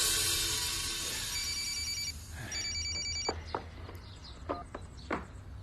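A telephone rings with a bright electronic trilling bell in repeated bursts, fairly faint and alone, followed by scattered clicks and small knocks.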